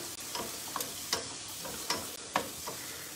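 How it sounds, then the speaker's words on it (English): Onion and celery sizzle steadily in a pan, a close, continuous crackling hiss broken by several scraping clicks as a utensil stirs the vegetables at an uneven rhythm. "So I've got my onion and my celery, because that was what I had available to me, sizzling away there, just cooking"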